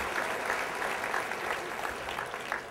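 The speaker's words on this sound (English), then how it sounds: "Let's give them both a nice round of applause for helping." An audience at a mentalist's stage show gives two volunteers a round of applause, a steady, even wash of many people clapping with no voices over it.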